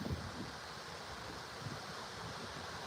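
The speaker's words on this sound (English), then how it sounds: "Oh, I bet it's windy as hell on y'all right now." Wind blows outdoors at a fly-fishing spot, a faint, steady broadband rush with soft low gusts buffeting the microphone.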